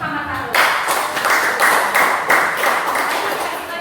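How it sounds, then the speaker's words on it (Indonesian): Classroom students clapping in a quick, fairly loud rhythmic burst lasting a few seconds, with voices mixed in among the claps. "tepuk tangan dulu untuk Muhammad Harun."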